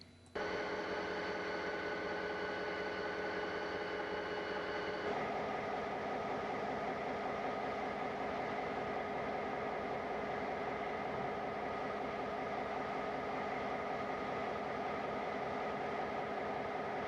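Penn Central seven-unit first-generation diesel lash-up led by unit 1756, three F-7A cab units and four cabless GP9B units, a steady loud engine drone with horn-like tones early on, then a deeper rumbling roar continuing to the end.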